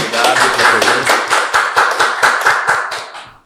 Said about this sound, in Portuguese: aqui eu tenho o costume de receber os meus convidados com uma salva de palmas